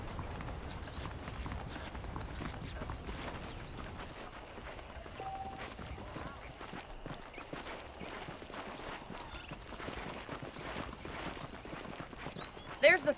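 Rhythmic horse hooves clip-clop at a walking pace in the video game Red Dead Redemption, fairly faint, under an ambient outdoor bed with some talk mixed in.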